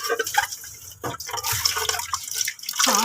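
Water splashes and trickles in an irregular, broken pattern while a tube-feeding set and its rim, inside and out, are rinsed by hand at a sink, fairly close and with no talk.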